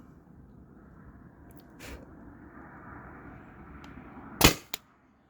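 A single sharp pop from a Tippmann TPX paintball pistol running on a 20oz CO2 tank, heard near and loud, with a quick echo after it. Quiet room hiss fills the moments before the shot.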